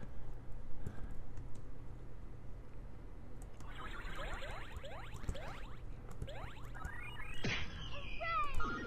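Keys on a computer keyboard, arrow keys and spacebar, get pressed in quick bursts while playing an asteroid-shooting game, clicks mixed with swooping arcade laser and blast effects under a constant low hum.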